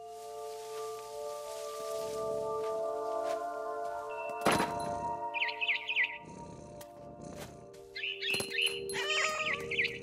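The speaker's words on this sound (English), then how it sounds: "Then I heard chirping outside my window. It was a barn swallow going back to her nest." A barn swallow chirps in the video game What Remains of Edith Finch, giving clusters of quick, bright tweets in the second half, preceded by a dull thump, over steady ambient tones.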